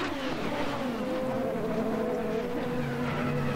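A racing touring car runs through gravel during a race, its engine a loud, continuous roar with a steady drone throughout, close and unbroken.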